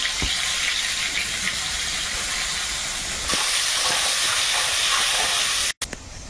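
Fish sizzling in hot oil in an outdoor village kitchen while a crab mash and fish curry with eggplant and potato are being cooked, a steady loud hissing fry that continues without pause, with a brief dropout near the end.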